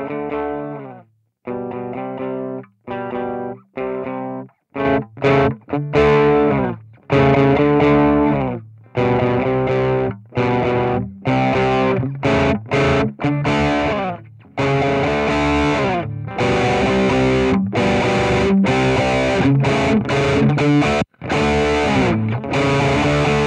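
Heavily distorted electric guitar through a high-gain amp model on a Boss GT-1000 plays chords and riffs with short gaps between phrases, thick and loud with a gritty, saturated tone.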